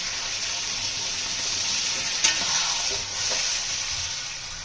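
Spice paste sautéing in hot oil with a splash of water for a river fish curry, giving a steady, close, dense hiss with a few brief crackles and no talk.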